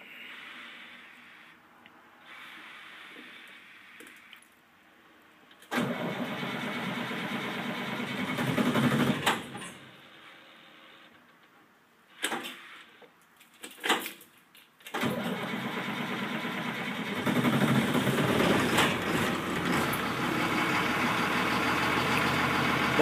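2005 car engine cold starting at night: quiet background, then cranking and catching into a rough idle, several restart attempts, ending in a steady close idle.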